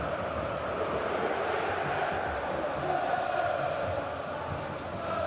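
Football stadium crowd at a Bayern Munich top match, a broad sustained roar of thousands of spectators reacting in astonishment, steady and distant-sounding with a slight swell midway, under faint commentary.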